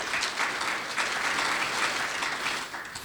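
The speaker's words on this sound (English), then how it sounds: "Some applause, please, for our volunteers." Audience at an AR gaming talk applauding volunteers, a steady wash of clapping from many people lasting about three seconds.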